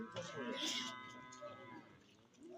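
A young bull calf at a cattle market lets out one drawn-out moo, close and fairly clear, with faint background noise around it.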